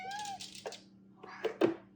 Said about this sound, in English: it cracks me up too because their meows are so different